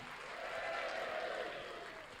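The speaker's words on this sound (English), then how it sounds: "Hurry up, clap!" An audience claps steadily at a juggling street show, a faint, even patter of applause with a few voices mixed in.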